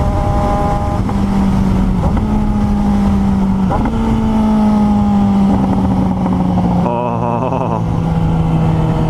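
A 2018 Suzuki GSX-S 750 motorcycle at speed, its engine droning loud and steady with pitch shifting as it shifts gears and accelerates, wind buffeting the microphone and a brief exclamation from the rider.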